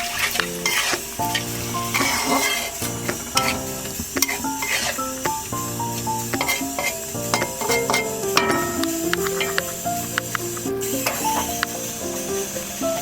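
Potatoes and spices fry in a pan with a steady, crackling sizzle that runs throughout beneath prominent background music, broken by occasional scraping knocks.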